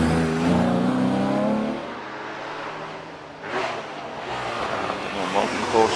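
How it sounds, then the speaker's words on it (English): An air-cooled classic Porsche 911 RS replica races up a hillclimb course, its engine revving and shifting through gears at mid distance, rising again after a brief lull, while a commentator talks over it. "911 RS replica. The classic 911s, of course, the RS, one of the early ones, air-cooled, of course. And he goes through the S's."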